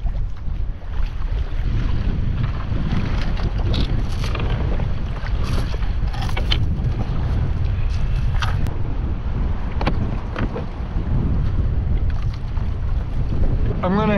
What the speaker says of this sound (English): But that wind is ferocious.